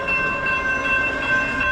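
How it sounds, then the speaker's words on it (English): A train on an active Los Angeles rail line, likely the Metro Blue Line near Willowbrook, approaching with a steady, loud rolling rumble and a sustained bright horn-like tone across the whole stretch, with no talking. "That is the sound of a train coming."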